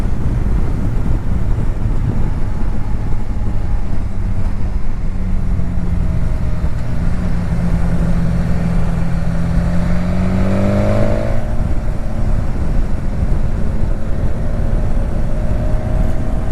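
Engine of a 2019 BMW S1000XR sport-touring motorcycle while riding, a steady drone with rising and falling rev tones buried under heavy, constant wind roar at the microphone, with no talking.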